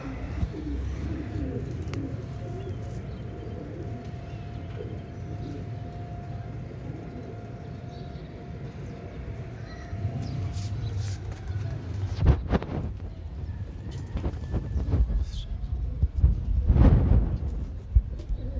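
Pigeons at a pigeon club coo steadily in low, rolling calls, several birds close by over a continuous background murmur that grows a little louder and busier toward the end.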